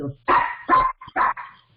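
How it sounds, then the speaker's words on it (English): A dog barking during a community council meeting, three loud, fairly close barks in an uneven rhythm with short pauses between. "there's the dog is barking in the background"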